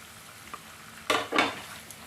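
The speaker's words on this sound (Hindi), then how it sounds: "ये जो बेसन मेरा रेडी है देखिए, इसको मैं इसमें डाल दूंगी सबको" Besan (gram flour) dropped into ghee in a pan over a low flame, with a couple of short scraping stirs and a soft sizzle against quiet background.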